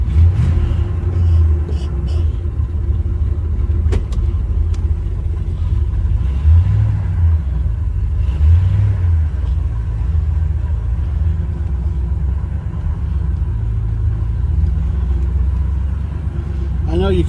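A Ford LeMans engine idles with a steady low rumble that holds throughout, its pitch wavering slightly at times, while people talk nearby.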